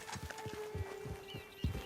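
Horse hooves clip-clopping in Red Dead Online, a steady walking rhythm of close hoof falls over a faint tonal background.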